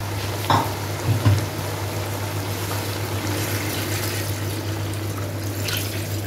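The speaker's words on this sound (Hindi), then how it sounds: "मैं इसके हिसाब से 7 गिलास पानी ऐड करूँगी" Several glasses of water pour into a pot of rice for a large batch of Punjabi chicken pulao. A few splashes at the start give way to a steady stream over a low, constant hum.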